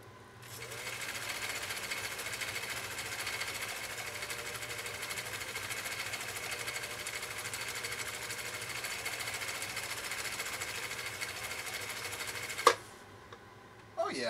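A vintage Swedish sewing machine sews a cam pattern stitch at width 4, its motor whirring in a steady, even run for about twelve seconds before stopping, followed by a couple of brief clicks.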